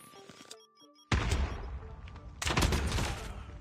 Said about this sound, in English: He was low enough that it just instantly exploded.